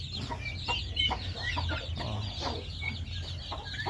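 Chickens and newly hatched chicks on a small backyard farm, with soft clucking and high chick peeps repeating through a steady low background hum, close and continuous.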